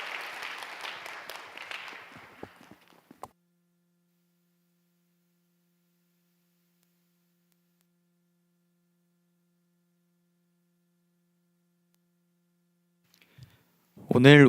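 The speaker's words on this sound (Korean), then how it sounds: "박수로 다시 한번 축복하겠습니다." Congregation applause at a Sunday youth worship service in a church, a few seconds of dense clapping that dies away into a long silence, then a voice starts speaking near the end.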